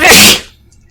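A single loud, close sneeze that bursts sharply and fades within half a second into quiet.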